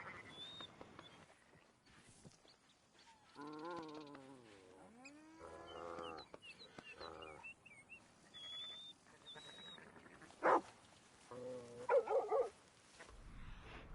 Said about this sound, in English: An Australian Shepherd. G'day, dog.